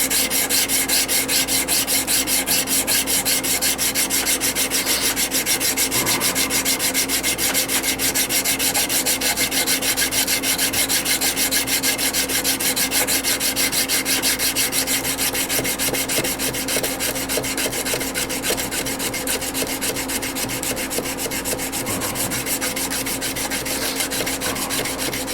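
A 120-grit abrasive rubs steadily on wood in a continuous, even rasping stroke that goes on for about 25 seconds, close and alone with no talking.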